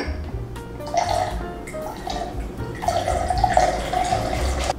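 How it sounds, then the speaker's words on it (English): Jamaican rum, Meyer's, poured into a shaker for a Mai Tai, a continuous gurgling liquid stream lasting several seconds, fairly close and alone with no talk. "I'm gonna do 2 ounces of my Jamaican rum."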